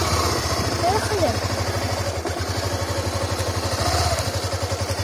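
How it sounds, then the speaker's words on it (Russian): A motorcycle engine idles with a steady, rhythmic chugging that runs close and loud for the whole stretch, with voices in the background. "Все, не получается завести?"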